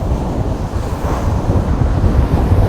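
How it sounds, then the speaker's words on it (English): Ocean waves break and wash loudly onshore at Forster beach during a big storm, a continuous roaring surf mixed with strong wind buffeting the microphone. "There's some nice waves."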